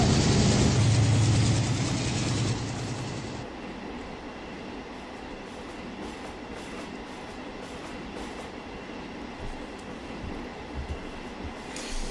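A Minecraft train from the Immersive Trains mod rumbles steadily along the rails, loud and close at first, then settling into a continuous rolling drone with faint rhythmic clatter.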